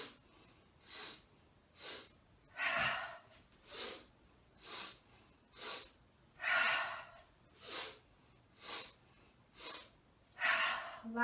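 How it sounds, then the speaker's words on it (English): Rhythmic yoga breathing in a gentle session, with repeated short nasal inhales followed by longer, fuller exhales, a soft and close steady cycle with no talking. "We'll inhale, inhale, inhale, exhale."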